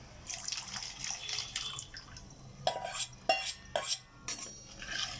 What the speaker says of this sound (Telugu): ఎక్కడ ఉండలు కట్టకుండా కలుపుకుంటూ ఉన్నామండి.